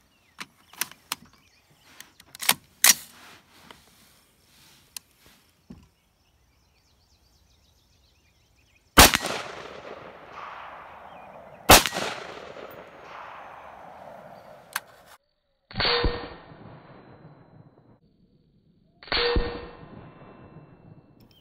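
5.56 rifle rounds, 55 grain then 62 grain penetrator, fired at a plate of mild steel: a few early cracks, then loud sharp shots with ringing metallic clangs that decay over seconds, spaced apart, later ones more muffled, with no talk.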